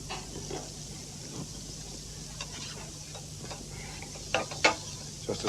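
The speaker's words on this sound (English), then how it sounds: "Just to sizzle those a little bit, just to get them slightly softened in the butter" Small mushrooms sizzle gently in butter in a frying pan, a soft, steady crackle broken by a few sharper clicks and clatters near the end, with no talking.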